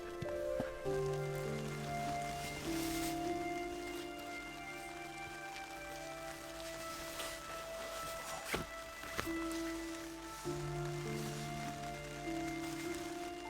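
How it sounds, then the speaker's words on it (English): Rain patters softly and steadily on a surface, faint and close, with a few sustained tones humming in the background. "It's been raining for the last hour or so."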